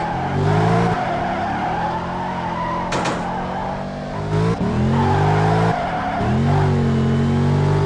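A Formula One car in the Assoluto racing sim revs hard and continuously, its engine pitch rising and dropping through repeated gear changes and braking, with brief tire squeals, loud and close throughout.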